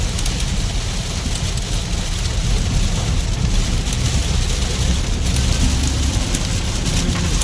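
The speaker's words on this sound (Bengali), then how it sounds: "সলিড বৃষ্টি হচ্ছে," Heavy rain falls during a road trip between Kankrajhor and Bolpur, a steady, dense broadband wash over a low rumble that runs without a break for the whole stretch, with no talking.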